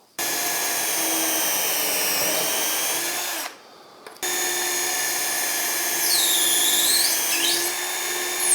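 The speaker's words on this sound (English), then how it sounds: "I can now go ahead and drill these holes." A power drill bores holes through a UJK Parf guide system clamped to a workpiece, running as a steady high whine for several seconds, pausing briefly, then spinning up again with rising pitch sweeps as the bit cuts.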